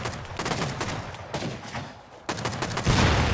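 Rocket launcher fire and explosions in a video game arrive as a rapid, loud cluster of close blasts and crackling bursts, pausing briefly before another heavy burst and rumbling boom at the end.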